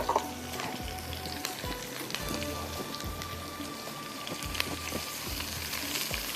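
Vegetables are tossed into masala spaghetti in a hot pan with the stove just turned off, giving a crackling, rain-like sizzle with repeated low scraping and knocking strokes of mixing, quiet and close.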